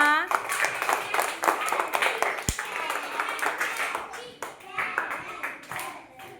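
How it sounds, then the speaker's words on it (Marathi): Children in a school classroom clap together at their teacher's request, a dense burst of many small hands that rises and falls in waves, with a few children's voices heard under the applause. "मग टाळ्या एकदा छान वाजवा."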